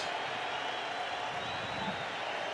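A Fenway Park crowd at a World Series Game 6 rises and cheers, a steady broad roar of many voices with scattered clapping, sustained and fairly distant throughout.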